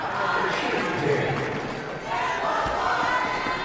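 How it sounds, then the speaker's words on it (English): Arena crowd cheering at a men's college basketball semifinal, Monmouth against Fairfield, as bench players rise; a steady, dense roar of many voices fills the whole stretch, dipping briefly midway before swelling again. "the first of the bench mob gets up off the bench, and that's what the cheering is from"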